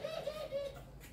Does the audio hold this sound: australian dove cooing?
yes